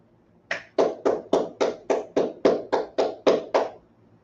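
A group claps hands in unison, eleven sharp, evenly spaced claps at a brisk, steady pace, close and clear with no talking.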